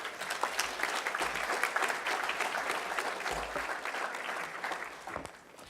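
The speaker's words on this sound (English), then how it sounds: "a round of applause for Peter." A seated audience at a community streets event applauds a speaker, with steady, dense clapping from a mid-sized crowd that keeps going evenly and then tapers off near the end.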